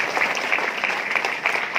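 Audience applauding teachers who guided student teams at a moot court event, a dense steady patter of many hands clapping throughout, moderately loud with no voices.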